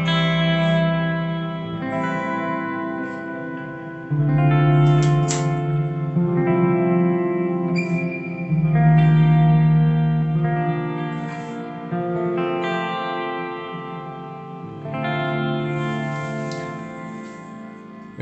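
Electric guitar chords ring out through a HeadRush multi-chorus effect, each strum shimmering and widening with a lush, swirling sustain, several chords played in slow succession with no talking.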